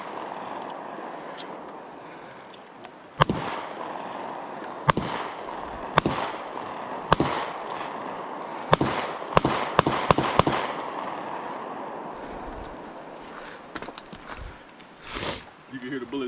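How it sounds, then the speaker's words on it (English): Sharp gunshots from a 12 gauge shotgun and a 9mm Glock 19 pistol fired outdoors, about a dozen loud cracks spaced irregularly, some in quick clusters, over a low background with people talking. "You can hear the bullets flying."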